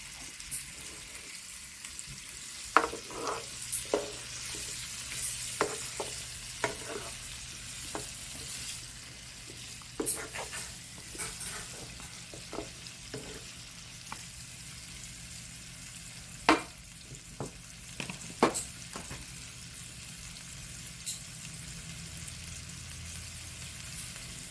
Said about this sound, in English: She adding her broccoli to her juices to let them cook a little bit